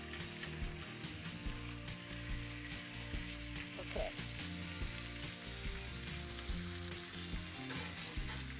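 Three cloves of garlic fry in olive oil, a soft continuous sizzle with light crackling, fairly quiet and steady, with no voices.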